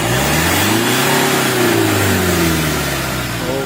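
Mitsubishi Strada pickup with a 4N15 MIVEC diesel engine, suffering low power and heavy smoke, revving loudly up and down nearby in a steady rising and falling drone.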